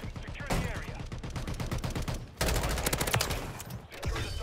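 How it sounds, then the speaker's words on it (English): Gunfight in Call of Duty: Modern Warfare III with an M16 build: rapid bursts of automatic gunfire and overlapping shots come in dense, loud volleys, with a brief lull in the middle. "Yeah, I can't take this gunfight."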